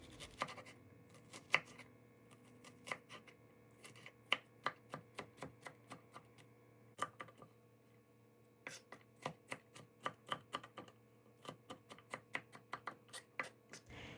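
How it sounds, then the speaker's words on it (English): A knife dices a small white onion on a cutting board, producing steady runs of quiet, sharp chopping taps in quick rhythmic bursts, with short pauses between the runs. "Here I'm just dicing up a small white onion"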